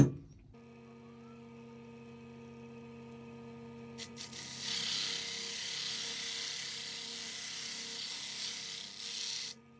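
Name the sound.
wood lathe spinning at full speed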